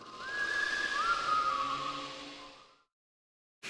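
A whistled sound effect from a StarCraft mod: a clear, sustained whistle with a few sliding pitch changes over about two and a half seconds, then silence.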